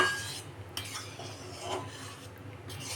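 A milk powder mixture stirred in a wok with a metal utensil while making a sweet, soft scraping strokes and light clinks against the pan, close and fairly quiet.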